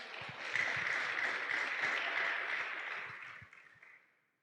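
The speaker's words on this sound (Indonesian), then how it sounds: "Tepuk tangan buat Tuhan." Church congregation applause filling the space, dense clapping that holds steady before fading out near the end.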